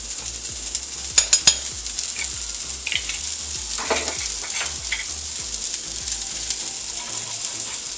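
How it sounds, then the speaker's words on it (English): Butter melting and sizzling in a pan with garlic and kosher salt for chicken and potatoes, giving a steady close hiss with a few sharp clinks of a utensil near the start and soft crackles throughout. "Now I'm going to let the butter melt down a little bit before I give this a stir."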